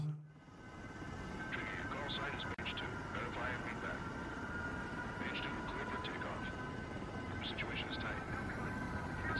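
Jet aircraft take off in a squadron dogfighting video game, a steady roaring engine drone with whining tones throughout, heard beneath continuous talk.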